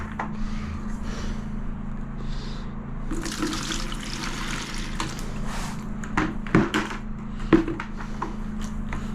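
Roughly 10 ml of water poured into a white grout mix, a soft splashing trickle that starts around the three-second mark and carries on with a few small pours and drips, close up with no talking.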